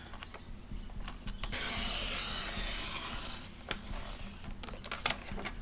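A piece of black paper being cut to make a mask for stamping, giving a close scraping, rasping slice that swells for a few seconds and is followed by lighter taps and rustles.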